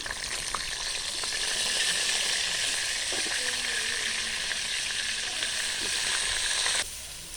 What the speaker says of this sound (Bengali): পনির ভাজার তেলে ফুলকপিগুলো ভেজে নেব।